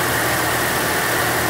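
A Chevrolet Sonic engine idles steadily with its radiator fans running, a constant close broadband whir and hum with no talk.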